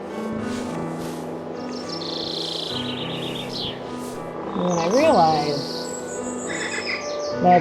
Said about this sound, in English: this game uses like bird songs from Europe